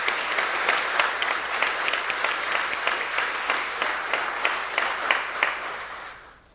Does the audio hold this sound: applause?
yes